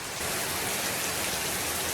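Heavy rain pours down in Zanzibar's rainy season as a dense, even, continuous hiss of drops close by, with no one speaking.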